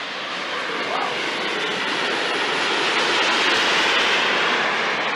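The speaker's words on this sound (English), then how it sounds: "It's a beast of an aeroplane with multiple P300 engines." A large RC model aeroplane powered by multiple P300 turbine engines gives a loud, steady, broadband jet roar that swells slightly and holds without pause throughout.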